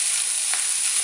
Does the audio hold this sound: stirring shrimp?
yes